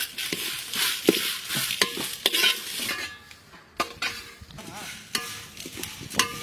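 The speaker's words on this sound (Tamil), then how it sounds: "மசாலா நல்லா பதமா வதங்கிச்சு" Masala with cumin, cinnamon and curry leaves fries in a pan while a metal spoon scrapes and stirs it, sharp clinks punctuating a soft sizzle at close range.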